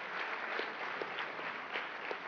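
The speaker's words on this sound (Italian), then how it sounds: "dopo questo applauso" Applause from a television studio audience, a steady broadband patter of many hands held at an even level for a couple of seconds, with no talk over it.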